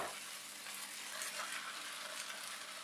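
Prawns hitting a hot pan of softened tomato masala and sizzling steadily, a faint but constant hiss of frying throughout.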